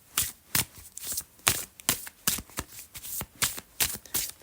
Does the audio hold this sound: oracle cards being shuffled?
yes